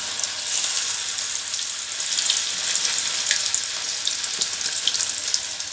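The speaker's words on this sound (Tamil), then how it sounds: "இப்போ நம்ம கொஞ்சமாக எண்ணெய் ஊற்றி நம்ம பொரிச்சுக்கலாம்." Fish frying in a little oil, a steady, close hiss of sizzling that carries on evenly throughout with no voices.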